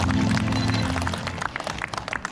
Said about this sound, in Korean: 여러분 박수로 청해 주시면 고맙겠습니다.